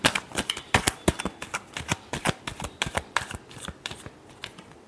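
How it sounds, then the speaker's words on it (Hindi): Tarot cards being shuffled by hand in a reading give a rapid series of crisp riffling snaps and flutters, close and fairly loud, in uneven bursts with short pauses and no talking. "last shuffle"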